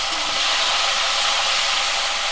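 Green beans frying in a pan for a Bengali fish chochchori, a steady loud hiss and sizzle that holds evenly throughout with no talking.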